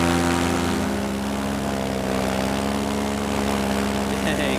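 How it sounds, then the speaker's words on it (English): A paramotor flies overhead through a narrow gap in Valley of the Gods, its steady propeller drone loud and continuous, with a buzzing engine tone throughout. "will a paramotor fit through there?"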